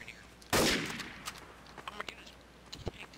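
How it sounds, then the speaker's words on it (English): Gunfire in the game Trouble in Terrorist Town: one loud burst of shots up close, then a scatter of quieter, faster pops and clicks trailing off in the background. "Someone's shooting the detective."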